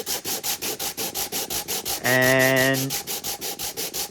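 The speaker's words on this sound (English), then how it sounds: "I'm going to start sanding with the other." Steady rhythmic rubbing strokes of a sanding block on a glued-up wooden speaker box, about four per second, close and even; a short spoken word and a brief harmonic hum intrude midway.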